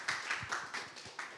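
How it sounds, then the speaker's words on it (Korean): Applause from an audience at a Korean startup incubator and science-technology event, greeting a biotech company executive as he comes to the stage; sparse, uneven clapping that rises and falls in bursts, moderately near and not very loud. "큰 박수 부탁드리겠습니다."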